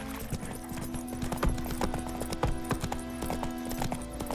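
In The Witcher 3, the horse Roach gallops with a quick, continuous clip-clop of hooves over a busy game soundscape.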